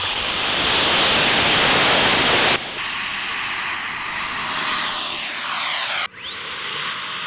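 A 3D-printed RC Sea Harrier model jet launches from a catapult, its small turbine roaring loudly with a high whine, cutting sharply between sections as the pitch shifts and rises near the end.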